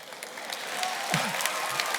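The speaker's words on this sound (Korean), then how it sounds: "왜 박수를 치냐고 도대체" Audience applause during a pastor's sermon at a school and campus prayer gathering, a steady wash of clapping from a large crowd that fills the whole moment.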